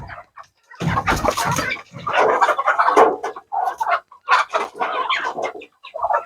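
Several chickens cluck and squawk close by in busy, overlapping bursts while being fed, with a loud flurry of scratching and flapping near the start.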